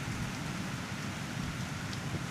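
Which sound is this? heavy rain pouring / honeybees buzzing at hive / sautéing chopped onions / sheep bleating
heavy rain pouring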